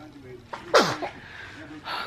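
One sharp sneeze bursts out at home, near and loud, with faint breathy vocal sounds just before and after.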